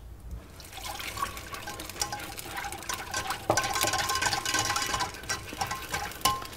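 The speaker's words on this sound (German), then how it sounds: "So, wir haben das Ganze vermischt." Melted butter being stirred into a vegan chocolate-almond cake batter gives soft wet sloshing and scraping, quiet at first and then louder and busier, with small clinks of the utensil against the bowl.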